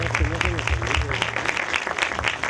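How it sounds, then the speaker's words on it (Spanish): An audience at a forum on women in politics applauds a woman being sent off from the stage. Dense, continuous clapping runs throughout while a voice speaks over it. "Un fuerte aplauso a Frosina"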